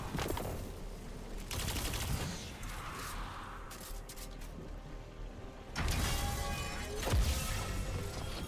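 Gunfire in the Destiny 2 video game, a dense, loud stretch of rapid shots and crashing impacts that surges in bursts, with brief quieter gaps between volleys.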